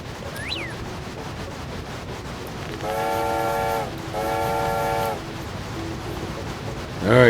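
A train in a video game sounds two long horn blasts in close succession over a steady rumbling background, loud and nearby, with no talk.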